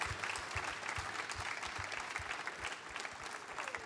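An indoor audience at a gardeners' prize-giving ceremony claps for Franck, a dense steady round of applause from many hands, fairly distant and even throughout.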